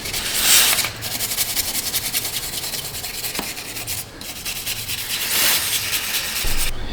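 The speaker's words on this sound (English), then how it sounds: "Stiff wire brush takes silicone out really well." A stiff wire brush scrubs old silicone sealant off a Subaru engine part, a close, steady rasping hiss in repeated strokes with a couple of brief pauses, no voices over it.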